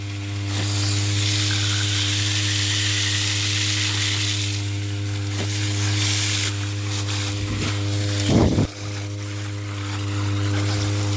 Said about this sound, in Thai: อันนี้เร่งเครื่องให้เพื่อนๆได้ชมกันนะครับ